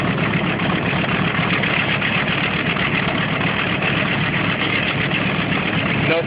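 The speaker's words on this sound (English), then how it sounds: "that engine is not spinning backwards. It's actually spinning the same way as the one that just started." A vintage B-25 or B-17 bomber's propeller engine idles at a regional airport, a loud steady rumbling drone with fine rhythmic pulsing, continuous and close, with no talk.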